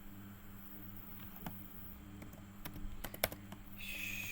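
Code being typed on a computer keyboard, soft scattered keystrokes with a few sharper clicks, close and quiet over a low steady hum.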